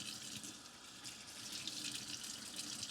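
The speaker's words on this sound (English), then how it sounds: "Rinse out the sponge and make sure you get any excess water out of it." A kitchen sink faucet runs steadily while a sponge is rinsed under it, giving a quiet, continuous hiss of splashing water with no talk.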